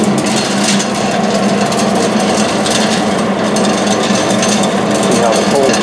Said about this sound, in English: There's some coal left in the auger, so that's what's happening right now.